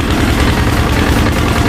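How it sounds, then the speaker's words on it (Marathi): A diesel-engine tourist boat cruises on Bhandardara lake among mountains, its engine giving a loud, steady, close low rumble and drone that stays unbroken, with no talking. "diesel engine boat"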